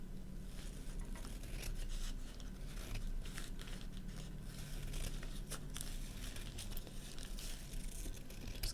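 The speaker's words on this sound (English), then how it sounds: "So I'm just going to cut this down a bit." Paper being cut down to size for papercraft heads, heard as faint, continuous crinkling and snipping with small irregular tearing clicks over a low background hum.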